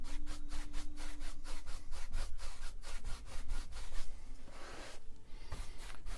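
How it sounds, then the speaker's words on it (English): A paintbrush scrubs on canvas while a mountain is painted, making a rhythmic, close, scratchy swish that repeats in quick, regular strokes and turns into a looser rubbing near the end, with no talk. "And I'm wiping my brush off continuously as I'm going up here."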